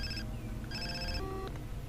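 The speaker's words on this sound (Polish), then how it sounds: "o, telefon." A phone rings in Far Cry 3, with two bursts of electronic trilling tones over a steady game background drone.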